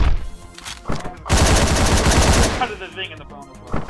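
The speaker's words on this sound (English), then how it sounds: "Or Peter the Unicorn, quiet gunshot" Gunfire in the video game Hotline Miami erupts as a loud, rapid burst of automatic shots lasting over a second, framed by shorter single bangs and game sounds.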